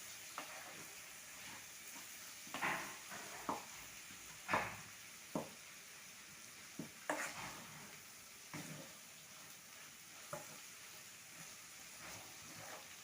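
A filling for mini pastilla fries quietly in a pan, with a soft sizzle under scattered spatula scrapes and stirring knocks at irregular intervals.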